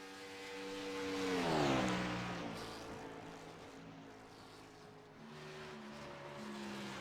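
A race car engine in an esports racing game, the Wood Brothers Esports machine, revs high and then drops in pitch as it shifts, a steady synthetic engine drone sustained at moderate volume.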